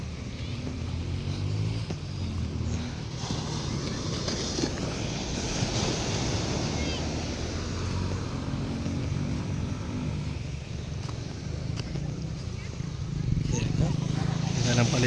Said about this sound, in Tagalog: Lakas ang hampas ng alon.